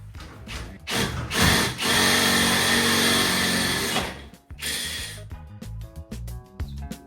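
A power drill whirs loudly for a few seconds while drilling holes for nutserts on a Yamaha Drive 2 EFI golf cart stretch kit, then stops, followed by clicks and short mechanical taps of hand tools nearby.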